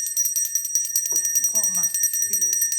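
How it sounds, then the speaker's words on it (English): A hand bell rung steadily and brightly for the whole stretch, its shimmering, rapidly repeating metallic ring staying close and loud, with a faint voice murmuring briefly underneath. "Let me go ahead and ring my bell."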